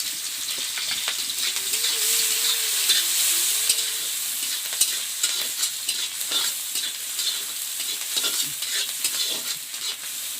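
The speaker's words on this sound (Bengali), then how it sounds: "পেঁয়াজটা ভালোভাবে ভেজে নেব" Sliced onions sizzle and crackle in hot oil in a preheated pan while being stirred for a small-fish curry, a steady close frying hiss with scraping stirs throughout.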